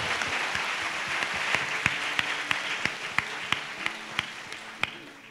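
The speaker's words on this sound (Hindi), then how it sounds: "जोर से ताली बजाएंगे।" A church congregation at a fasting prayer service claps loudly in continuous applause, with sharper individual claps standing out at a steady rhythm near the end.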